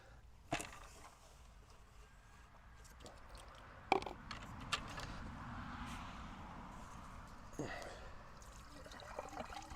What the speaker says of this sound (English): we prime it just by popping this little cap here and pouring water into it